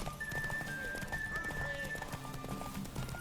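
A horse in The Witcher 3 clip-clops at a steady gait with a brief whinny, heard under game music and voices talking.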